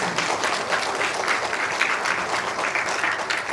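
At a community sharing event, an audience applauds steadily, many hands clapping together in a dense, even wash at moderate volume.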